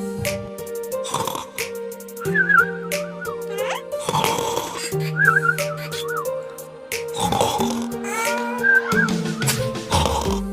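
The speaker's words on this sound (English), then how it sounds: "Pinkerton's snoring woke up Pistachio 70 nights in a row" Cartoon monster snoring in a children's counting show: repeated loud, rumbling snore cycles with rising whistly tones, mixed with music-like tonal sounds across the whole stretch.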